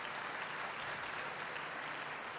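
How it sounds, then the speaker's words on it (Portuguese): Church congregation at a missionary conference giving a round of applause, a continuous even patter of many hands clapping with no voices over it. "Uma salva de palmas, adoro a Deus pela vida dessa família."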